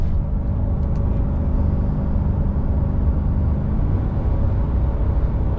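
A RAM 2500 pickup with a 6.4 HEMI engine climbs a hill while towing, a steady low engine drone and road rumble heard from inside the cab, continuous and unbroken.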